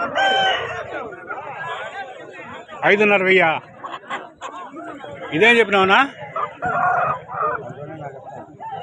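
Roosters crow and cluck at a fighting-cock market in Punganur, with several loud, harmonic crows rising over steady crowd chatter and bargaining voices close by.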